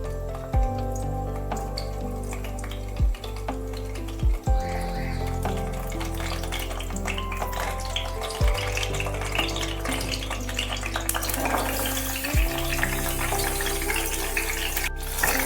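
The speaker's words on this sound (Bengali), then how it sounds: "তেল হয়ে গেছে, আমি আস্তে আস্তে পটলগুলো দিয়ে দিচ্ছি।" Pieces of pointed gourd drop into hot oil and fry, producing a continuous sizzling crackle at close range, with several soft thuds as pieces land in the pan.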